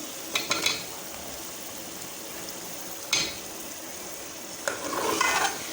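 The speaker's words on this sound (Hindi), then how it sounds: "आलू को हम मसाले के अंदर अच्छे से भूनेंगे।" Cubed potatoes frying in a spice masala in a pan, steady sizzle with a spoon stirring and scraping the pan in a few distinct clinks and bursts, close and clear with no talking.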